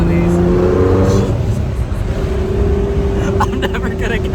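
A 700 hp Nissan GT-R engine droning loudly from inside the moving car, with a steady pitch and a brief rise partway through, under speech from the passengers.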